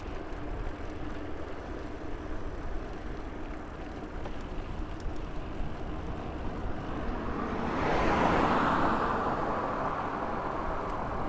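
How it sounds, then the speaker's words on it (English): A car passing on a narrow rural road in Japan, heard from a bicycle as a steady whoosh of wind and road noise that swells as the vehicle goes by near the end. "some cars don't mess around on these tiny roads"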